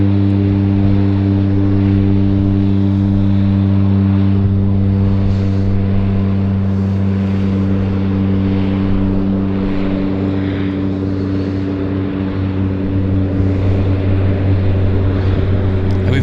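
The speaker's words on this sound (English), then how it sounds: "Actually, first of all, we're going to do a takeoff." A Twin Otter floatplane at Vancouver Harbour throttles up for takeoff, its propellers and turbine engines giving a loud, steady drone with strong harmonic hum that holds throughout.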